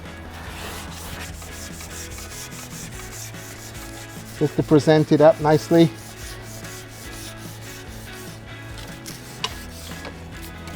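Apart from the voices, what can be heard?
sanding sponge rubbing hoof wall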